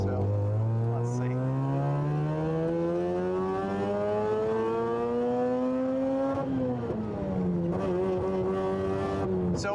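A car with freshly changed transmission fluid pulls hard, engine note climbing steadily, dropping at a gear shift, then rising again; a loud, close, sustained drone from inside the car.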